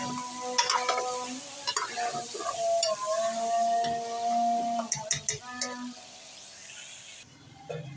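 Chicken frying in a pan sizzles steadily while a spatula stirs and scrapes, with clinks and knocks against the pan coming close and irregularly.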